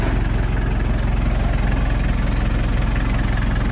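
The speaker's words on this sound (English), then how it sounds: "So Megan's gonna go out and film as I try to back it up and probably put it in 4-wheel low" A Mitsubishi Delica engine rumbles loud and close in a low, steady drone with a rhythmic pulsing throb while the stuck van strains to back out in four-wheel low.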